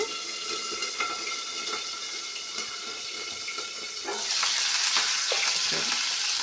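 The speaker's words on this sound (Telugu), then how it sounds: "Green chilli వేసేస్తాము. అది కొంచెం పగులుతుంది కాబట్టి ఇలా వేసేస్తాం కాసేపు." Green chillies crackling and sizzling in hot oil in a pan while making a kandi ginjala (pigeon pea) curry, a steady close frying hiss that grows louder and busier with sputtering pops after a few seconds.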